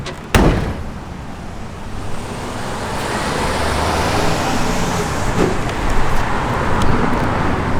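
A 1970 Chevrolet Chevelle SS with traction bars drives along the road, its steady engine and tyre roar rising gradually, with a sharp thump near the start and no talking.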